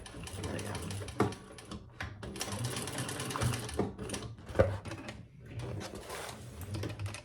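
A sewing machine stitches a large crossbody sling bag, running in short rattling bursts with brief pauses between them, close by.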